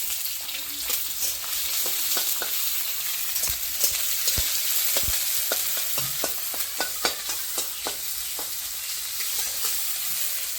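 Spice paste for a chicken curry fries in hot oil, making a steady broad sizzling hiss scattered with sharp pops and crackles, close and fairly loud.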